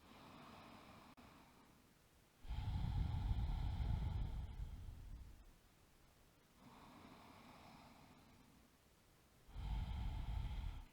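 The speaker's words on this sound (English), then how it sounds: "And breathe." Slow, deep yoga breaths held in a Warrior One pose, each long audible inhale and exhale rising and falling in a steady rhythm, close and breathy with quiet gaps between, no talking.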